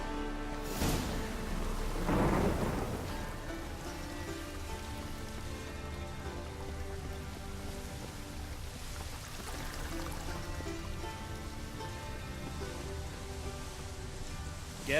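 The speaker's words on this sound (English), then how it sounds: "It's raining, of course it's going to be damp." Steady rain patters throughout a stormy scene in The Witcher 3 video game, while sharp thunder cracks and rumbles break in near the start and again midway, over low music.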